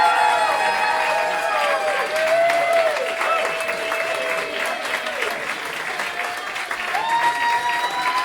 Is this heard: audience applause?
yes